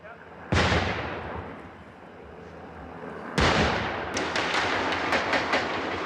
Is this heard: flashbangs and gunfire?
yes